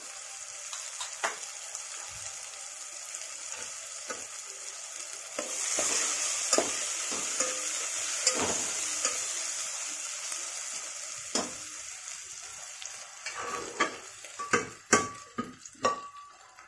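Soft sizzling of turmeric and red chili powder sautéing in oil with occasional scraping stirs, growing busier toward the end with clinks of a utensil against the pan.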